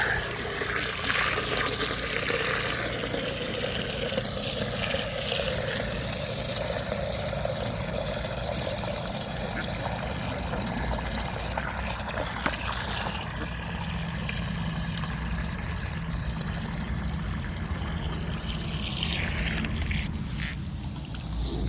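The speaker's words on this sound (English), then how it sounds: "black hose, makes the water kind of hot. And now we're down to cool water." Water runs steadily from a black garden hose in a backyard duck and chicken area, a continuous close rushing and splashing flow that shifts slightly in tone near the end.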